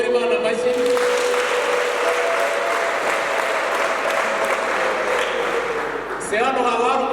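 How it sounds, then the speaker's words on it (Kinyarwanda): Sustained applause from a wedding congregation fills the room, steady dense clapping that dips briefly near the end before picking up again. "abishimye bakomere Imana amashyi"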